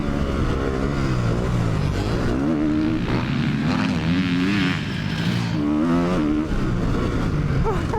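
A 450cc dirt bike engine revving hard, a loud close roar whose pitch climbs and falls in repeated surges, steady and continuous throughout.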